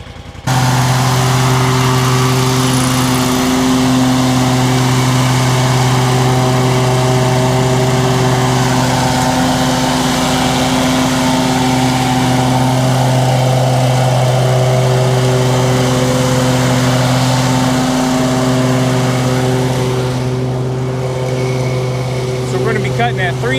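Two riding lawn mowers, a 52-inch and a 60-inch deck, cutting grass at 3.5 inches, run as a steady close engine drone with constant tone throughout, with no clear talk over it.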